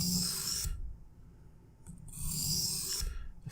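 A kitchen knife gets a light touch-up on a Sharp Pebble waterstone, giving two close, bright, gritty scraping strokes separated by a short quiet pause.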